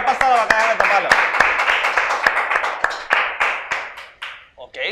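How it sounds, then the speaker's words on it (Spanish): A group claps for a game called the hot boot, a burst of sharp hand claps that starts dense and quickly thins out into scattered slaps with voices audible underneath, fading near the end. "aplauso para la bota caliente"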